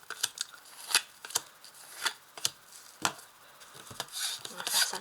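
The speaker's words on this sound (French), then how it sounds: "Alors, je place les cartes dessous." Tarot cards are placed one by one on a table, leaving soft, sharp slaps and brushing snaps at irregular intervals, close and quiet, with a rustling shuffle toward the end.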